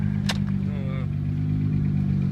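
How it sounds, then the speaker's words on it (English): A 1JZ-swapped Toyota MK3 Supra idles close by with a low, rough, slightly uneven engine drone, one brief sharp click near the start and a faint tonal whine above the idle. "You can hear the throttle just it's inconsistent, or the idle's a little bit inconsistent."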